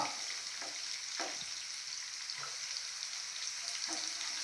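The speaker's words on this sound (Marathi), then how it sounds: "कांदा चांगला व्यवस्थित भाजून घ्यायचा" Onion and garlic fry in a pan for a dry sukat chutney, giving a steady, close sizzle with occasional soft scrapes of stirring and no talk.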